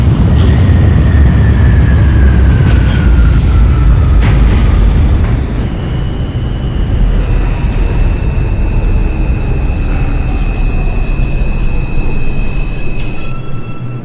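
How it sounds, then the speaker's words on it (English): An R142 subway train on the 4 line in the OpenBVE simulator rumbles along steadily and loudly, with whining motor tones that shift in pitch as it runs and electronic chimes and tones layered over the rolling noise. "This is a Woodlawn-bound 4 train."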